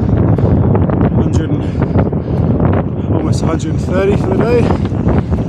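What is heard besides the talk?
strong headwind blowing on a cyclist's microphone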